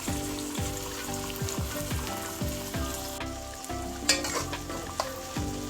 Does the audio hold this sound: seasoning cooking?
yes